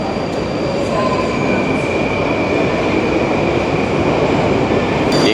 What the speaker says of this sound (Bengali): এখানে মোটামুটিভাবে 1 মিনিটে একটা করে ট্রেন আসছে।